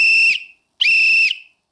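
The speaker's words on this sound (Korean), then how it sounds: "호루라기를 불면서 위험한 상황을 주변에 알릴 수 있는" Two loud, steady blasts from a whistle blown as a call for help, each lasting about half a second with a short gap between, alone with no talking.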